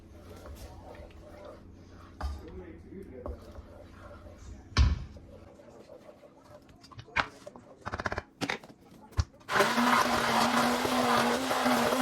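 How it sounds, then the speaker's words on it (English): Kitchen blender blitzing tomato soup with vegetable stock, a loud steady whir kicking in near the end and running on after scattered clunks and knocks from the kitchen. "I'm going to blitz this up again and then put it on to simmer"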